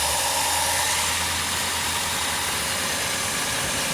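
Dodge Caravan with a new PCM and no communication, engine running at a high idle, a steady dense close-up hum with constant noisy roar and no change in pace.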